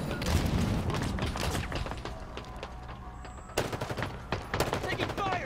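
Rapid automatic gunfire from Halo Infinite multiplayer, dense bursts of shots crackling loud and close, with a short lull before more volleys and impacts resume.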